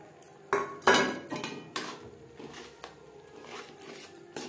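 Fried semolina is stirred continuously into sugar syrup in a wok over a low flame, producing irregular metallic scrapes and knocks of a spoon against the pan, loudest early on, then softer repeated strokes.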